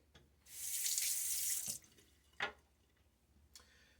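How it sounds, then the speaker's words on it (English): Water gushes from a tap into a sink for about a second during a wet shave, then a few sharp splashes and drips follow in an otherwise quiet room. "Just kind of a little splash of water."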